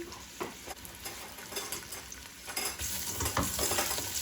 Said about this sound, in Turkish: Şimdi şöyle karıştırıyorum. Havuçlar ölene kadar karıştırıyorum.